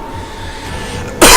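A single sharp, loud cough from a close-up commentator bursts out at the very end, after a stretch of quiet background hum during a Dota 2 match cast.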